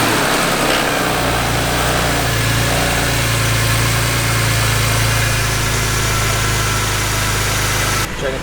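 A BMW E46 M3 engine fires up and settles into a loud, close, steady idle with an even mechanical hum and no revving.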